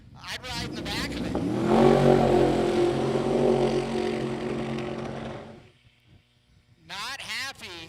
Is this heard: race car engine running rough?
yes